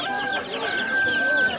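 Chicks and chickens packed together at a poultry bazaar in Shovot, Khorezm, make a dense, continuous chorus of shrill peeping and clucking, with market voices talking underneath.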